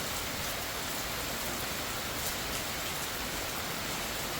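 Heavy rain pours steadily in the Himachal Pradesh mountains near a village, a dense, unbroken hiss of water close by with no voices.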